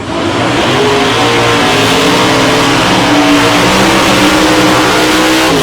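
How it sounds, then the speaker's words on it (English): A drag racing car at the South Coast Nationals qualifying blasts down the strip, its engine roaring loud and continuous with a steady climbing tone throughout. "Leon Davies runs through on a 530 at 131 mile an hour"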